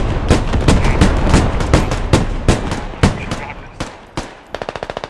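Heavy gunfire in a combat video game simulator: loud, rapid bursts of shots with booming impacts, then a fast, tight rattling volley at the end.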